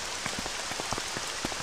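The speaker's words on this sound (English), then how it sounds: "It's raining." Rain falling and pattering on a surface, with irregular close drops ticking over a steady hiss for a short stretch, no voices.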